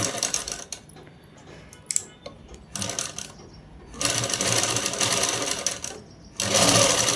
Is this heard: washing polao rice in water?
no